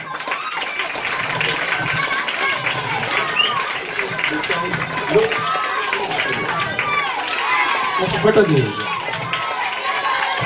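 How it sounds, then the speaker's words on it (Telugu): An audience applauds at an honouring ceremony in which a missionary is presented with a shawl and a sari. Dense, steady clapping and crowd noise run throughout, with voices talking and calling over it. "చప్పట్లు ఆగకూడదు, ఇంకా కొడుతూనే ఉండాలి."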